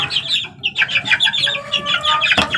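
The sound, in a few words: chicken clucking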